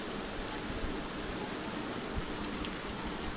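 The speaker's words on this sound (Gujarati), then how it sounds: "ધીમે ધીમે નેવા ચાલુ થયા બહુ એવો કાંઈ ખાસ વરસાદ નથી" Light rain falls in a Gir village, a continuous soft, even patter of drops with eaves just beginning to drip, steady throughout with no voices.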